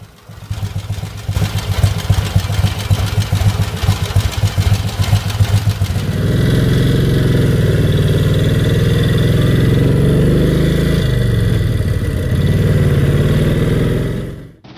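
A vintage Brough Superior motorcycle engine runs loud and steady, with a rapid clattering beat at first that settles into a smoother, continuous mid-pitched drone.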